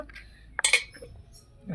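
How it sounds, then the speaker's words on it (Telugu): A couple of sharp cracks and clinks of hen's eggs against a bowl, short and close, in a quiet room, with faint voice sounds at the end. "ఇప్పుడు మనం కోడిగుడ్లు అనేవి ముందుగా పగలగొట్టి ఒక గిన్నెలో పడేస్తున్నాను నేను"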